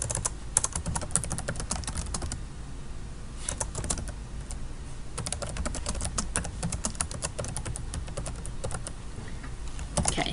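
Continuous typing on a computer keyboard while editing a page in Google Sites, with dense, rapid key clicks in bursts and brief pauses, close and steady throughout.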